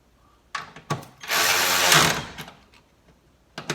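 Inexpensive cordless electric ratchet backing out a painted-on fender body bolt: a few clicks and ratchet snaps, then about a second of loud close motor whirring, followed by more scattered clicks.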